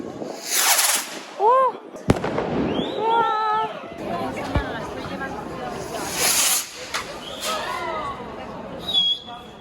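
Street fireworks set off by people in Germany on New Year's Eve: whistling rockets rise and sharp bangs and crackles go off, some near and loud, with excited voices throughout.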